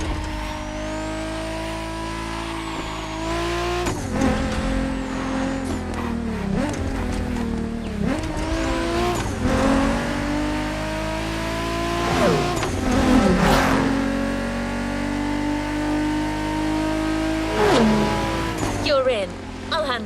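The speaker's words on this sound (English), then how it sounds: "Good thing you're driving the 1969 Camaro Z28." A 1969 Camaro Z28 V8 in The Crew Motorfest, revving hard and shifting through gears with rising and falling engine tones, loud and close, under game music and spoken dialogue.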